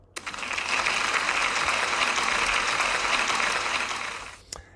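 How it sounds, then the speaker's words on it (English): Pupils and staff at a school celebration assembly applaud a pupil, a brief, even round of many-handed clapping that swells quickly, holds steady for a few seconds and then fades out, ending with a single sharp knock. "Can we give Lily a big round of applause, please?"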